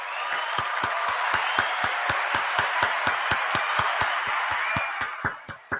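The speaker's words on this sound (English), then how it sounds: "I'm going to give you a round of applause for being honest" A single person claps steadily through a round of applause, about two dozen sharp, evenly spaced claps at close range, with no crowd and no speech.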